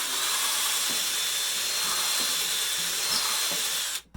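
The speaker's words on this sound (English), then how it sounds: "find a drill bit that's about the same size as your bolt, and you want to put a hole where you drew that line" A power drill with a bit bores a hole through material for a homemade portable basketball hoop, giving a steady, continuous whirring hiss that runs unbroken for about four seconds before cutting off abruptly.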